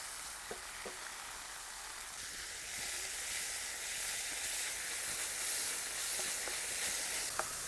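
Mango blossom chutney frying in a little oil in a pan, a soft continuous sizzle and hiss that swells slightly partway through, with a few faint clinks of a spoon stirring, fairly quiet and without talk.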